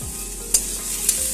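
Radish curry with chopped coriander stirred in a pan on a gas stove, a soft continuous scraping sizzle with two sharp utensil clicks against the pan, close and alone.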